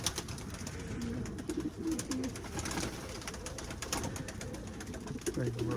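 Soft, low pigeon coos repeat through steady background noise, fairly close, with a few short calls standing out near the end.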